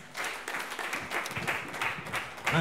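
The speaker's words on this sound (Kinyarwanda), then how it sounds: "Tuyikomera amashyi menshi cyane." A church congregation claps in response to a preacher, giving a short burst of loose, uneven applause of moderate loudness with scattered individual claps rising and falling over a couple of seconds.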